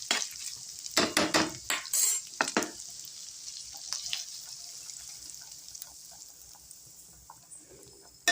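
Ingredients for tapioca milk payasam roast lightly in a pan, with a series of loud scraping, clattering stirs near the start and then a soft, steady sizzle that slowly fades.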